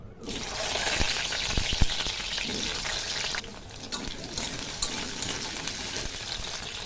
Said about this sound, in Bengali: তেলটা গরম হয়ে গেছে, আলুগুলোকে ভেজে নেব।